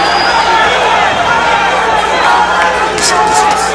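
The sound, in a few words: boxing crowd cheering Larry Donald's Ali shuffle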